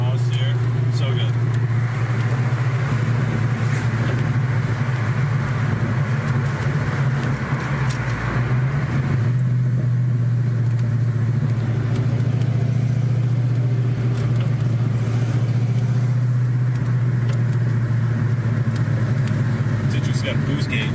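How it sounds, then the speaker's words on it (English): Car exhaust rumbling steadily with a deep low drone and slight rise and dip around the middle, close by, with people talking over it. "There's no better sound than this exhaust here."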